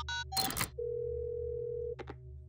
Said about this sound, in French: faisons un canular téléphonique à Nono du futur.